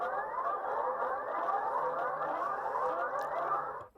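Brazilian emergency warning sirens wail in a loud, continuous rising and falling tone, with repeated sweeping cycles that hold steady before cutting off abruptly at the end.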